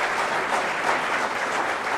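Loud, sustained applause from an audience at a school event honouring children who won a Gita recitation contest, dense steady clapping throughout with no voices.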